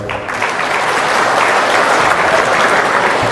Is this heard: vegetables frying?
no